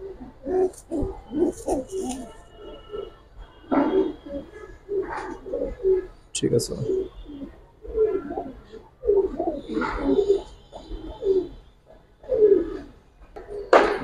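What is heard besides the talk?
pigeons cooing, silver line pigeons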